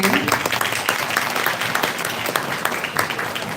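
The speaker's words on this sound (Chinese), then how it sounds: "掌声欢迎" Audience applause welcomes a guest speaker at a community event, many hands clapping in a dense, sharp patter that stays strong and continuous.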